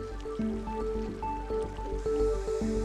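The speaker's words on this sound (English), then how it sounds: "gooey blurpy mud pots" Hot, gassy mud pots in Yellowstone's thermal area bubble and plop in quick irregular bursts, thick gooey blurps and pops layered over a low gurgling churn, close and fairly quiet.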